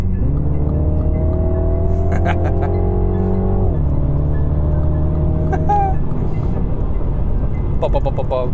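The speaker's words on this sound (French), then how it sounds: "Cet échappement est démoniaque, littéralement démoniaque." Exhaust of a Mini John Cooper Works, a steady loud engine drone rising in pitch, dropping after a shift, then climbing again, with crackling pops and bangs on and off the throttle.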